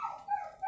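A short, faint whining yip from a mixed-breed dog, a couple of brief high vocal cries in quick succession.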